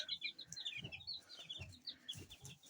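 Young chicks peep in quick, high, overlapping chirps on a cool, rainy day, fairly faint, with soft low thuds of movement between the calls.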